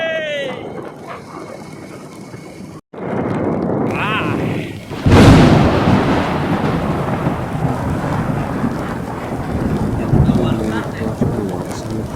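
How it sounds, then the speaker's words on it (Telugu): Heavy rain falls steadily through the whole stretch, with a loud, sharp thunderclap about midway and a rumbling wash of rain and thunder after it; a dog barks and voices are faintly audible in the background. "వర్షం పడుతుంది"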